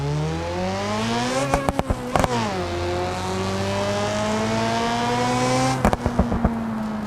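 A car in the BeamNG driving game revs with a steady engine drone, its exhaust cracking out sharp popping after-bursts in two clusters as the throttle lifts.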